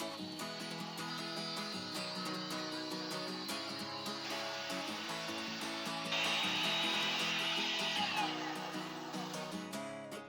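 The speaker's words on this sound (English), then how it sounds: "I love this saw. It is an indestructible beast of a machine and does a lot of the timber" Sturdy power saw cutting timber for workbench legs, giving a steady, loud droning whine with a ringing buzz that holds for about ten seconds and rises slightly in the middle, unbroken throughout.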